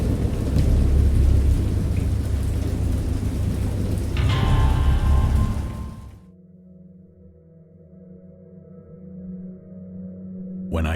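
A wild thunderstorm roars with heavy rain and deep rolling thunder, loud and close for about six seconds, then it cuts abruptly to a quiet low hum.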